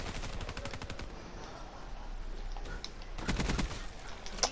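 Rapid automatic gunfire from Call of Duty Black Ops 3 multiplayer, a fast steady stream of shots in two bursts with a short pause between, fairly quiet and without talk.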